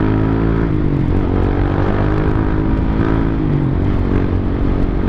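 A big bike motorcycle engine runs at steady, fairly loud idle and light throttle, its even rumbling drone sustained throughout with no talk.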